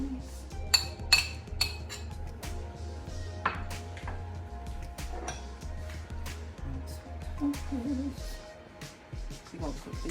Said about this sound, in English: And here as it's stirring up, it's cooking.